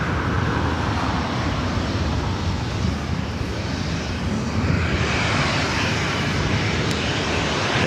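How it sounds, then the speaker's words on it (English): A Delta Boeing 737-900ER jet takes off at LAX with a loud, continuous roar of engine thrust that holds steady close by, and a broad rushing tone runs through the whole take-off run. "A Delta 737-900ER heading to Seattle, flight 1393."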